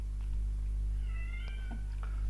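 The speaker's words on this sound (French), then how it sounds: "Désolé pour le miaulement de chat" A cat meows from behind a closed door, a few drawn-out, slightly muffled cries over a steady low hum of room noise.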